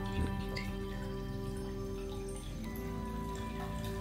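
Water flows steadily from a rotating indoor water feature in a home, making a soft, continuous trickle and drip at low volume with no voices.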